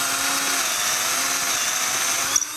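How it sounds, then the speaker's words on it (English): A power drill runs steadily into wood, boring a hole for a homemade catapult; the motor whine holds loud and close for over two seconds before easing off at the end, with no talking. "I'm going to start by taking the drill and drilling two holes on the sides"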